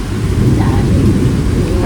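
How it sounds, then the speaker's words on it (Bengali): Heavy rain roars steadily with a deep low rumble, like thunder rolling beneath the downpour, constant and close throughout. "বাইরে তুমুল ফাটিয়ে বৃষ্টি হচ্ছে"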